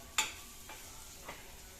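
Spoon stirring tomato chutney with chili powder in a hot pan: one sharp scrape, then two softer strokes over a faint low sizzle, close and quiet.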